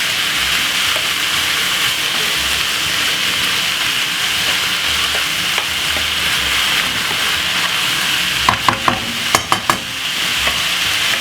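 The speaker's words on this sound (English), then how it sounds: "Let that fry for about 3 to 4 seconds." Chicken frying in a pan with a steady, loud sizzle and hiss throughout, joined near the end by a few sharp crackles and spits.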